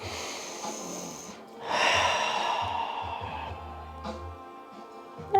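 A person takes a long, audible breath during a seated chair yoga session, a soft airy inhale swelling then fading into quiet exhale, near and fairly faint with no talk.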